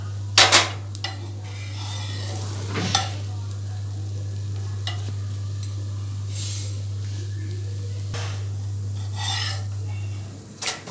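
A vegetable sandwich fries on one side in a pan, giving a steady low hiss of sizzling with occasional scraping and rubbing noises from a utensil, close and alone with no talking.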